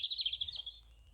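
A bird chirps in a quick run of bright, fluttering notes beside an old disused train line, clear and fairly close, fading into a faint low rumble.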